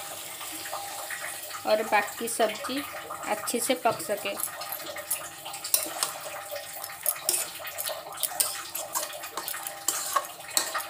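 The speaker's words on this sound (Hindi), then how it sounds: "अब हम सब्जी में थोड़ा सा पानी ऐड करेंगे" Water poured into a pan of mixed vegetables with chana dal, potato and soft eggplant, a running splashy pour that carries on steadily under a voice speaking Hindi throughout.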